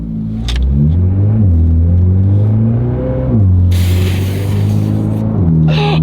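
A modified car's engine idles and revs while stopped at a red light, a loud close rumble whose pitch climbs and falls through several throttle blips, with a brief hissy burst midway.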